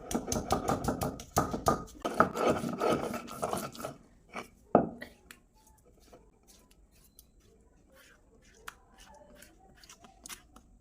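Garlic and onion are chopped for pasta, a quick run of sharp knife taps against a board up close, then sparse scattered clicks as the cutting slows, with faint talk in the background.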